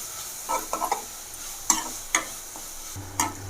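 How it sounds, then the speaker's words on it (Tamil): Onions sautéing in a pan for egg puffs, a soft continuous sizzle broken by several distinct scraping and clinking stirs of a spoon against the pan, fairly quiet and close. "இப்போ நம்ம ஆனியன் போட்டுட்டு நல்லா இதை வதக்கிக்கலாம்"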